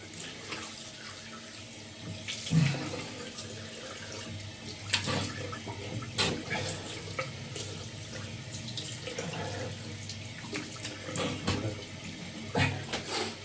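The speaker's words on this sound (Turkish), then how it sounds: "cildini geçiyorum arkadaşlar soğuk suyla" Cold tap water running steadily into a sink during a shave, a continuous close splashing stream with intermittent louder splashes and clatters as hands move through the flow, no voices.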